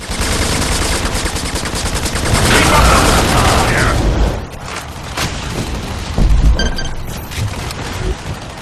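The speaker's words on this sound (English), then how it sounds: "Tank drop. Vehicle transport inbound." Tank drop delivery in Section 8 Prejudice, a sci-fi shooter video game: loud, sustained roaring rumble with gunfire-like crackle, building then cutting off, followed by heavy thuds and a mechanical clank as the vehicle lands.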